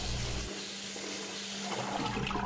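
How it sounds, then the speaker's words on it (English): Rice being washed in water, with continuous splashing and sloshing of water close by, steady for the whole stretch and with no talk. "First, you wash the rice 3 times."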